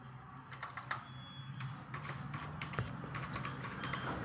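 Computer keyboard typing during a basic computer lesson, with quick irregular clusters of key clicks running steadily through a low background hum and no one talking.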